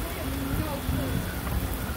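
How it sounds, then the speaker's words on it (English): Heavy rain pours steadily during a storm, a dense continuous hiss close by with low rumbling underneath and faint voices in the background. "Look at this storm. We needed the rain, but this is crazy."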